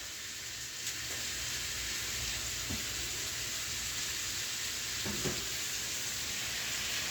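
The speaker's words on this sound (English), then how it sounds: "I'm just turning the shrimps around, making sure that's cooked." Shrimps fry in a pan, giving a steady, even sizzle with a few soft scrapes and knocks as they are turned over, close up and without any speech.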